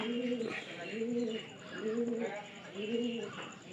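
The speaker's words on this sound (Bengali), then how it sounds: "এখানে একটা বাচ্চা কবুতর আছে।" A pigeon coos close by in four rhythmic, repeated throaty phrases of rising and falling tone, with a faint high background hum.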